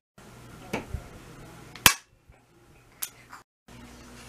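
A 666AF BB gun fires a few sharp snapping shots, one loud close crack followed by fainter pops, with quiet gaps in between.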